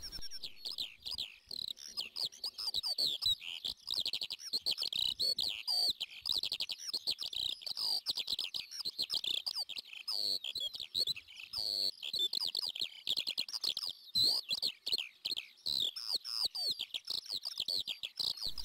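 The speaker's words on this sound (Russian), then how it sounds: "Это жаворонок взмыл вверх с таковой песней, добавив свой голос к общему гомону птичьих голосов" A skylark sings over an Altai steppe amid a dense chorus of other birds, a continuous tangle of chirps, trills and tweets at moderate distance with no talking.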